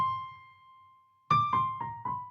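Piano playing a turn around C: one held note fades, then four quick, clear notes follow close together.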